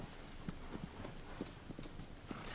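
Horse hooves clop at a walking pace in Shadow of the Colossus, a series of soft, fairly faint thuds over a steady ambient background.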